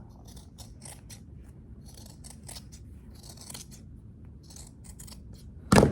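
Scissors snip fabric being trimmed for a handmade pin cushion, giving a steady series of quiet, close, crisp cuts with a louder clunk at the very end.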